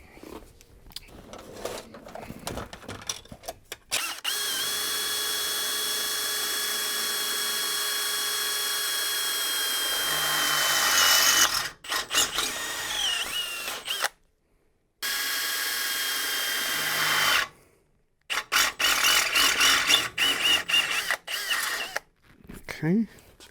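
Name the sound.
power drill drilling corners of truck metal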